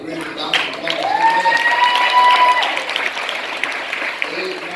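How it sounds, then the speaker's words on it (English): A congregation at a funeral service applauds the choir, the clapping mixed with cheering voices and a rising whoop, swelling and then settling. "Give this awesome choir a great round of applause."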